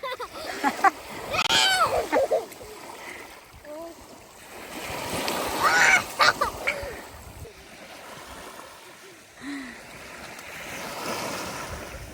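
Someone swimming in the sea off Atlantic Canada, with splashes and surf washing in bursts against steady wind buffeting the microphone, while voices talk over the water sounds.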